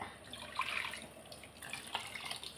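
Tap water runs and splashes at a kitchen sink while a pressure cooker is rinsed out, a close, uneven gush with a few louder sloshes and no voices.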